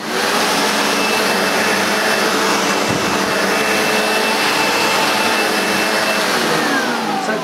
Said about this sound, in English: So it does actually work as a vacuum.